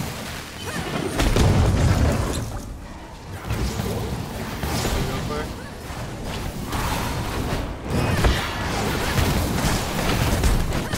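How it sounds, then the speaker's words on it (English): Bombs explode in a video game as continuous heavy booming and crashing, loud and dense, with repeated low blasts layered over a constant rumble for the whole stretch. "Okay, I put a bomb. Get ready, I'm gonna put some bombs."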